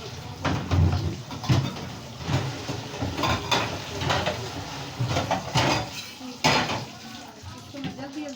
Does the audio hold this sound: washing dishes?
yes